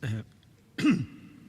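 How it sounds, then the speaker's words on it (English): Two short throat-clearing rasps separated by a brief pause, close and fairly loud, with no other sound around them. "I need to clear my throat"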